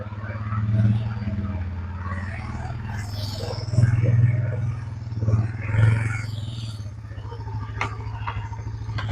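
A gas-flooded Suzuki engine revs while driving up a driveway, a rough throaty roar that swells and falls in several surges, close by, with a voice talking over part of it.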